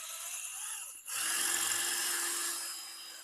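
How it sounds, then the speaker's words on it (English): A masonry bit drilling into exterior brickwork to fit a bracket, starting after a brief pause and continuing as a steady, close, high-pitched grinding whine. "here is my masonry bit, and I am just going to offer it up and slowly"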